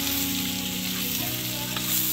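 Pancit canton noodles stir-fry in a pan with a loud, constant sizzle. Faint scraping of stirring can be heard over the frying.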